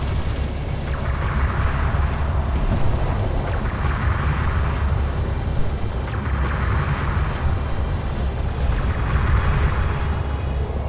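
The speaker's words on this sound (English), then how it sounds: "Hostile railguns opened up." Hostile railgun fire in the real-time strategy game Homeworld: Deserts of Kharak, a loud, continuous roaring barrage that swells rhythmically about every two seconds, with no voices.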